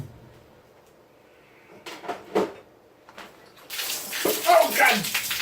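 Water runs from a kitchen tap during home cooking, a bright gushing splash that starts after a few scattered clunks and handling noises, close and moderately loud, with a voice speaking around it.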